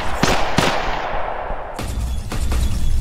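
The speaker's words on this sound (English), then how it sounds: "I can't even get out of the goddamn explosions!" Sharp, booming blasts from the cyberpunk horror detective game CyberNoire, several loud bursts in quick succession, two close together early and more after a short lull, each ringing out over a rumbling low-end wash.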